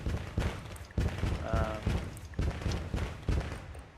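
Sewage pipes being demolished in SimCity, a series of repeated dull thumping bursts roughly every half second, fairly loud, with a brief tonal chime midway.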